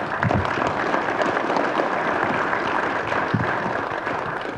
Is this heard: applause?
yes